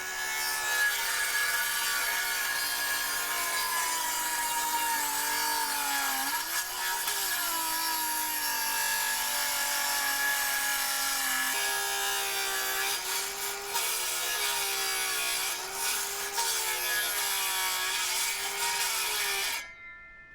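Continuous rasping of a power saw cutting through wood, steady and loud for about twenty seconds with slight shifts in pitch, then stopping abruptly.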